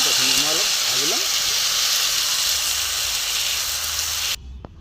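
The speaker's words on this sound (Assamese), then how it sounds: "ইয়াতে মই দিলোঁ টমেটোখিনি মই অলপ ভাজি ল'ম।" Tomatoes fry in oil in a pan with a steady, loud hiss and sizzle that fills the stretch, briefly under a voice at the start and cutting off abruptly near the end.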